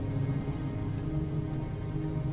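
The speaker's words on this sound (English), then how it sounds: "Crank that rain down a little bit so I can hear you." Steady rain as a sound effect, a continuous dense hiss of falling drops with a low rumble of distant thunder underneath, moderately quiet and unbroken, with no voices.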